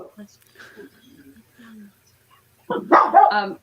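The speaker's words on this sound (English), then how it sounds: "the neighbor dog is barking now" A dog barks in a short burst of sharp yelps near the end, following faint quiet talk and background sounds.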